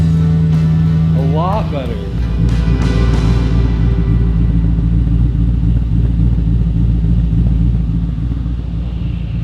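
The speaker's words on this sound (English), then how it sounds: "All right, mufflers are off. Let's hear this thing." A car engine with its mufflers removed rumbles loudly and revs once, then settles into a deep, steady idle, with a person speaking briefly over the start.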